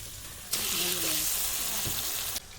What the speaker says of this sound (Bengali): শাক কষিয়ে নেব সব কিছু সবজি কষিয়ে রান্না করলে খেতে খুবই টেস্ট লাগে